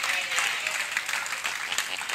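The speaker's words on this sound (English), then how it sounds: "Wait, you're clapping," A church congregation claps during a sermon, a dense steady patter of many hands that stays fairly even and moderately loud throughout, with a faint murmur of voices underneath.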